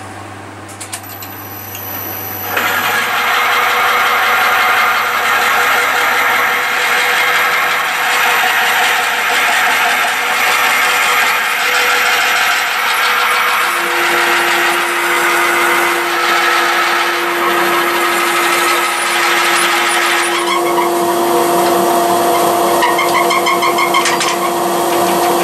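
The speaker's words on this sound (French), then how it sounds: "Maintenant, on va percer." A wood lathe turns a cherry and beech bird feeder while a bit drills into the wood, producing a loud, continuous mechanical whine and grinding roar with a steady tone throughout, no voices.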